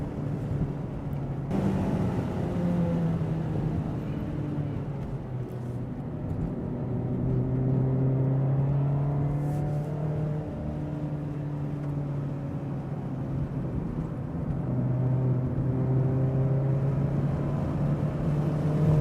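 A Mazda ND3 Miata lapping a race track, its engine drone heard from inside the cabin as a steady, continuous hum with rising and falling pitch through gear changes and corners.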